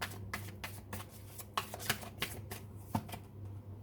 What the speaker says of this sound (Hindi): अभी चाक्रा, विजडम, ऑरेकल डेक से और थोड़े से कार्ड्स निकाल लेते हैं